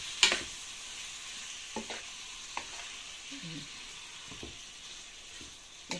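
Chicken liver and gizzards with paprika sizzling faintly in a pan, broken by several sharp scraping stirs of a utensil against the pan at irregular intervals.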